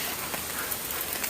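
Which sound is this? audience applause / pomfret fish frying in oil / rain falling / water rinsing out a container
rain falling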